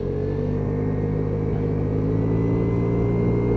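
A Vespa ET4 scooter engine, brought back from not running, idles steadily nearby with a constant low rumbling drone and faint whine, alone without talk.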